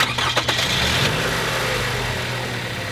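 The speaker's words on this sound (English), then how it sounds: "a good way of checking that is just starting the car up" A car engine cranks and catches at the start, then settles into a steady, even idle that runs on at moderate loudness, with no talking over it.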